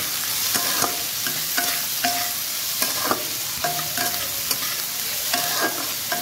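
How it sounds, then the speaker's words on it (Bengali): Onions frying in a pan with a steady sizzle, while a utensil stirs and scrapes them in repeated clinks and strokes, close and fairly loud with no talking. "পেঁয়াজটা দেখো ভাজা ভাজা হয়ে এসেছে।"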